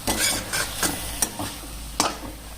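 Amaranth greens with onion, chili and grated coconut being stirred in a pan: a series of distinct scraping strokes about every half second, close and fairly clear, over a soft steady sizzle.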